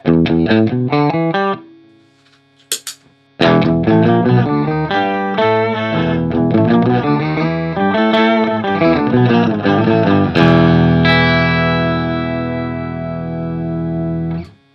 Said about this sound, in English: right now I have both the low octave and high octave engaged